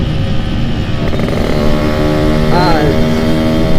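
Yamaha RX-King two-stroke motorcycle idling and revving, its exhaust loud and close, with a steady rattling drone and a short rising throttle blip near the end.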